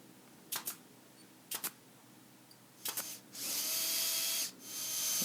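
A pin nailer fires into wooden blocks being fastened onto plywood, three sharp double clicks at spaced intervals, followed by a power drill driving screws in a steady whir.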